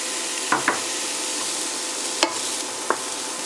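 Onions and diced zucchini frying in oil with a soft, steady sizzle, broken by a few sharp clicks of a utensil scraping the pan as the vegetables are stirred.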